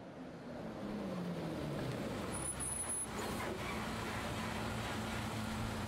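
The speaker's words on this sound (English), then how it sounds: "The sound of an engine brought me back to reality. A bus pulled over." A bus engine rumbles low and steady as the vehicle pulls over in the Everlasting Summer video game, a continuous mid-distance drone with a brief hiss partway through.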